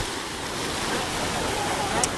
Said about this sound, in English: the waves are much stronger